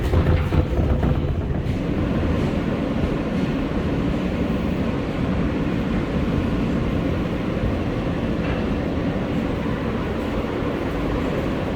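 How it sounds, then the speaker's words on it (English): An NYC subway R143 L train creeping slowly over track switches, a loud continuous low rumble and rolling roar from inside the car, steady throughout without a pause. "It's gotta go slow because there's track switches and shit here."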